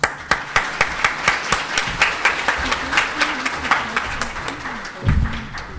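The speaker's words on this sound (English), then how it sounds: "let's give them a big round of applause" Audience applauding a panel at an academic session on mobile money, with distinct individual claps in a loose, moderately paced stream and a voice talking over them before a closing thump.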